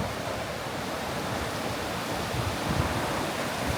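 A stream rushes beneath a small wooden trail bridge on the Appalachian Trail, a steady broadband wash of flowing water heard close and alone.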